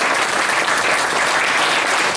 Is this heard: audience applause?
yes